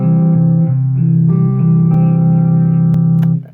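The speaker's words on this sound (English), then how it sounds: "we have fingerstyle techniques, which when you put the pick down and you just use your fingers to play the instrument." Fingerstyle electric guitar picked note by note with bare fingers, no pick, giving steady sustained tones that shift pitch a few times before fading out. It plays loud and alone.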